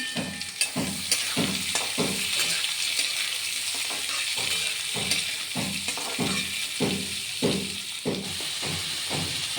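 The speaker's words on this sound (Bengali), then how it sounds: "কুচি কুচি করে কেটে রাখা পেঁয়াজ দিয়ে দিলাম।" Finely chopped onions hit hot oil in a pan just tempered with cumin seeds, giving a loud, steady sizzle and hiss with rhythmic scraping strokes as they are stirred, close up and without talk.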